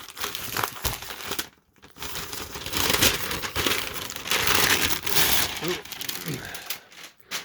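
A taped-shut brown paper bag from a comic shop is pulled open, giving bursts of loud crinkling and tearing paper with brief pauses in between.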